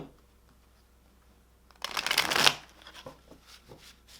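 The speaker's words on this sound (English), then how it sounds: "We got to give this a good shuffle" Santa Muerte tarot cards riffled in a quick, dense burst of papery shuffling lasting under a second, then several lighter taps and soft card handling that trail off, with no one speaking.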